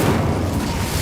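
A fiery Incendio spell blast from the game Hogwarts Legacy: one brief, heavy, loud boom with a rumbling burst, heard alone.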